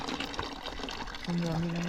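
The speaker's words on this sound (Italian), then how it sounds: "Questa è la fontana del 1827" Water pours steadily from a stone fountain dating from 1827 on a trail near a waterfall in Lamon, Veneto. It makes a close, continuous splashing rush, with faint voices in the background.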